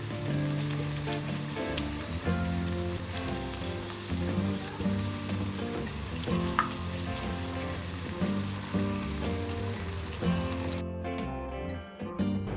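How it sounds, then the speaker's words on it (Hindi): Puris made from bottle gourd and wheat flour deep-fry in oil, with a steady soft sizzle and crackle running beneath prominent background music. "इसी तरह से हम बाकी की सारी पूरियों को फ्राई कर लेंगे"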